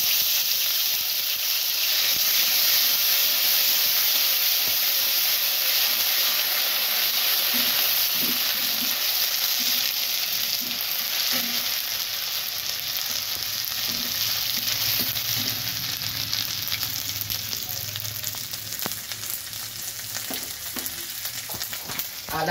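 Ginger paste sizzles in hot oil with tempering spices for a rohu fish curry, a steady close crackling hiss with scattered stirring scrapes and no voices.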